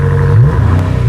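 BMW M5 engine revving in Dynamic Plus mode against a 4,000 rpm rev limiter, a loud close mid-pitched growl whose tone climbs and holds, sustained throughout.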